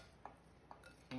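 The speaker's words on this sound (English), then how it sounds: "I stir it. Stir all this up before I add mayo." A spoon stirs tuna salad in a bowl, producing a few soft, scattered clinks and scrapes against the bowl, faint and close with quiet gaps between them.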